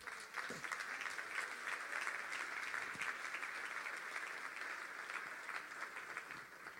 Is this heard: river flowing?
no